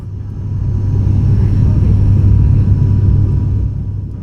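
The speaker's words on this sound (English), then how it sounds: "the cruising speed for a turboprop aircraft like this is about 500 kilometers an hour" Steady, loud low drone of a Firefly turboprop airliner cruising between Singapore and Kuala Lumpur, heard from inside the cabin, with a continuous deep hum and engine tones swelling slightly and holding throughout.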